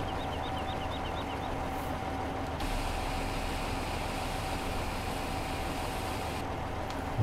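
A tractor engine in Farming Simulator 2015 drones steadily while towing a trailer, a low idling rumble that stays loud and continuous throughout, with brief bird-like chirps at the start and no talk.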